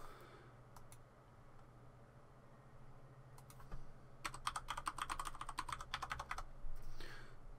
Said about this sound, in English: put in our password and unlock the vault